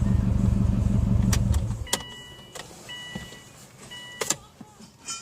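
A 2002 Subaru Impreza WRX idles with a steady low rumble for about two seconds, then cuts off abruptly, followed by faint clicks and small clunks in the quiet cabin.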